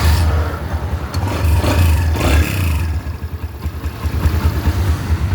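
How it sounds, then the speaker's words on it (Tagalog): A Kawasaki Barako 175 motorcycle engine, repaired after becoming suddenly noisy, idles steadily close by, a low, even, throbbing putter with light mechanical clatter and no voices. "tingnan natin kung maingay pa yung makina niya"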